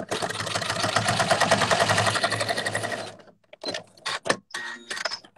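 Sewing machine stitching through leather on a leather pouch: a steady, fast rattling run of close needle strokes for about three seconds, then a few short separate bursts after it stops.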